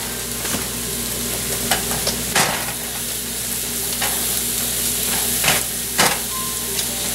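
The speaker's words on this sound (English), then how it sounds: "I'm going to let all that stuff saute and the flavors to kind of work together" Mushrooms sauté in a pan for escargots, a steady sizzle broken by repeated sharp clacks and scrapes of stirring, close and fairly loud, with no talking.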